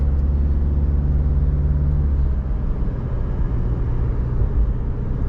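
A car with an automatic transmission pulls away at moderate throttle, its engine a loud, close low drone that holds a steady pitch, then drops and roughens as it shifts up, with no voices.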